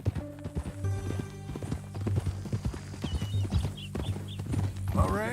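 Horse hooves clip-clopping at a steady walking rhythm in the video game Red Dead Redemption 2, close and clear over a low droning background, with a faint animal whinny near the end.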